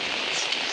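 Evening rain falls outside in the Konkan countryside, a continuous even hiss of drops hitting surfaces, close and unbroken, with no talking.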